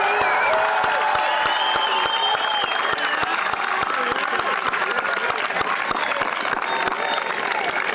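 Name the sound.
applause for Millis High School class of 2024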